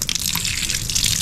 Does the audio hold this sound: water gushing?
yes